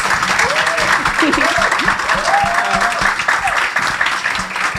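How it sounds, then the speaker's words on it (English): Audience applause for the panelists at a university postgraduate open day, steady crowd clapping throughout with voices and a few shouts mixed in. "Could you guys please just give a big round of applause to my panelists?"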